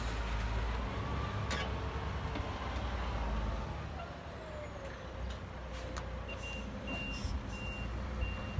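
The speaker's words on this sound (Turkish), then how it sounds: "kamyonumuz da geldi" A dump truck hauling excavation soil to a farm site rumbles nearby with a low diesel drone and a hiss of air brakes, then regular high reversing beeps repeat toward the end.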